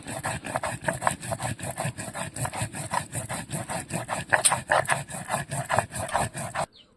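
Chili is ground into paste on a grinding stone by hand, producing a quick, rhythmic run of rough scraping strokes, roughly three per second, close and moderately loud, that stops abruptly just before the end.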